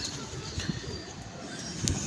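Paired pet pigeons coo in soft, low bursts close by, amid a busy background murmur and faint chirps.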